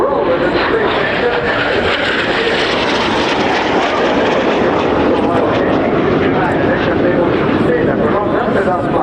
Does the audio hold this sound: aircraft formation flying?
yes